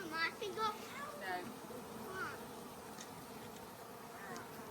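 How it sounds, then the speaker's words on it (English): A swarm of honeybees gives off a dense, steady buzzing hum that fills the whole stretch. Faint voices can be heard briefly near the start beneath the drone. "Yeah, they're not gonna sting. This is a swarm."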